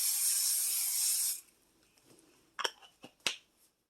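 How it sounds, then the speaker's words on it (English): A can of butter cooking spray hisses onto biscuit dough on a parchment-lined cookie sheet, one loud steady burst of just over a second, followed by a few faint clicks and taps. "And you're going to spray it with your favorite butter."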